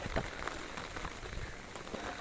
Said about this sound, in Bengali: বর্ষাকাল বৃষ্টি ভালোই হচ্ছে